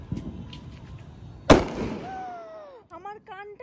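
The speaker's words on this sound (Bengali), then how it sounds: "এটা হচ্ছে সিগার বোম।" A cigar bomb firecracker bursts with a single sharp, loud bang during Diwali celebrations, followed by a fading rumble and high whistling fireworks, while people talk in the background.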